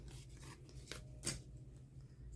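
Scissors snip through paper while a small craft house is trimmed, giving a few quiet, separate cuts and rustles that rise briefly in a soft rasping stroke.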